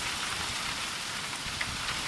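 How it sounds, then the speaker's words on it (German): Dense hail or heavy precipitation hisses in a steady, unbroken roar during a storm in Hungary, with scattered sharper impacts and no voices. "Aktuell gerade schwerer Hagelsturm."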